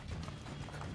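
A horse gallops in the Assassin's Creed II video game, its rapid, close hoofbeats thudding steadily over a dense, busy game soundtrack.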